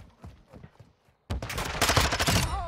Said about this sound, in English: I can hear you shooting.